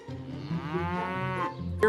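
A cow on a family farm gives a single drawn-out moo near its shed. The call is low and resonant with a rising, wavering pitch, heard fairly close but at modest volume.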